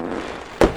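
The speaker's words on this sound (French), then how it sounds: "Il va blesser les enfants avec ses flatulences explosives." A single explosive fart sound effect bursts out sharply and loudly near the end, following a low, murky background hum.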